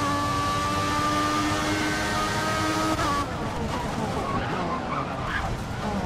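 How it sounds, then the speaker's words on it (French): An F1 car in the F1 2014 racing game brakes hard from high speed, a high engine whine dropping off into a scraping tire skid, loud and continuous, with a voice faintly underneath. "Oh là là, freinage"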